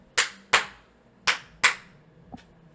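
Sharp, close hand claps in a quiet room: two quick claps, a pause, two more, then a softer fifth, each a crisp slap with a short decay.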